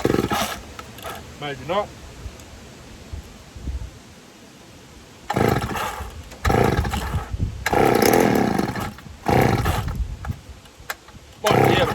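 A ported PM610 chainsaw with a 24-inch bar being restarted, the engine sputtering briefly and then firing into loud, close revving bursts separated by short idle gaps, with someone speaking briefly at the start.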